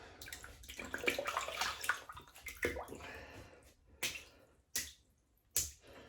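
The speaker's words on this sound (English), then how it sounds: "Wet the brush." Shaving brush being wetted with water before lathering Arko soap, a series of close splashy squelches and drips, busy at first then spaced into a few separate wet bursts, quiet overall with no voices.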